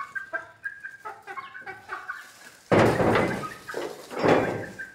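Backyard chickens kept in cages near pigeons cluck in short repeated bursts, close by, then a loud door bang cuts in and the clucking continues under it.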